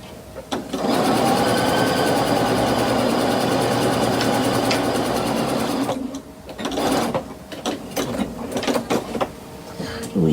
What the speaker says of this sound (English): that's not going to get stitched onto the bag, and I want it to look like double stitching.